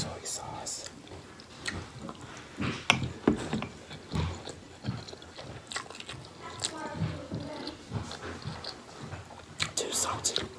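Sushi dipped in soy sauce being bitten and chewed up close, with soft wet squishes and crunchy bites in an irregular rhythm, plus brief whispery breaths between mouthfuls.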